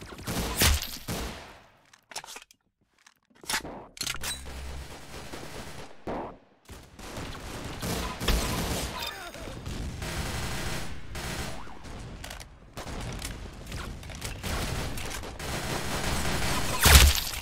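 Rapid gunfire in the Roblox game Arsenal comes in dense bursts, with brief quiet gaps early on, then near-continuous volleys of shots, loud and close.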